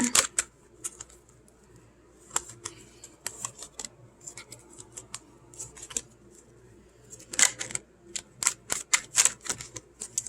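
Rapid papery riffling and snapping of a deck of tarot cards being shuffled, in uneven bursts that grow busier toward the end, close and without talk.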